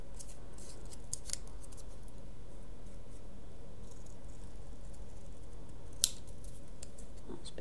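Scissors trim paper hearts up close, with a steady run of small crisp snips and rustling cuts and one sharper snip near the end, no voices.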